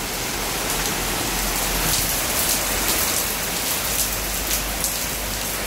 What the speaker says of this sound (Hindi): और अब इतना प्यारा मौसम हो गया है ना, ठंडी ठंडी बारिश।